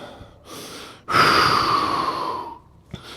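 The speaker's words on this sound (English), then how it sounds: "So, breathe all your air out." A person forcefully exhales all the air from their lungs in a long, breathy rush, preceded by a softer breath and ending with a brief catch near the close.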